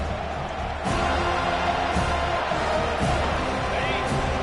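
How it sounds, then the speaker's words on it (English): A packed stadium crowd in an NCAA football video game roars loudly and continuously, a dense wall of cheering and babble with periodic swells, beneath a commentator's voice. "This crowd, full throat, splitting the eardrums"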